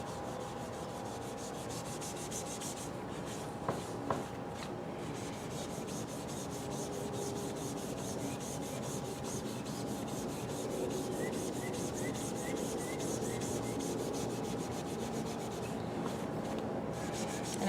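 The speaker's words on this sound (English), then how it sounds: "So I press really hard in the center where I want most of the color to come through and the powder glaze to come off." Painted furniture is rubbed by hand to wipe powder glaze off, giving a steady, quiet scrubbing with a couple of faint knocks. No voices are heard.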